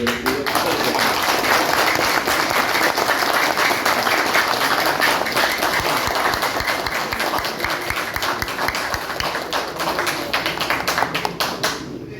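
An audience applauds at a ceremony welcoming a speaker to the stage. Dense, sustained clapping fills the whole stretch and fades slightly near the end.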